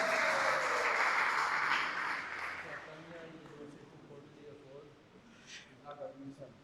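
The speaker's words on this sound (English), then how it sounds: "Please, a big round of applause for them." An audience applauds at a spiritual talk, a loud wash of clapping that fades over a couple of seconds before a voice begins speaking over the quiet room.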